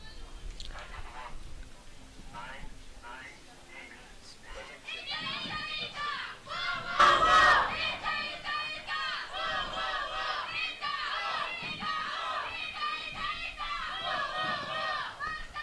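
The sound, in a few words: team supporters cheering at a sports event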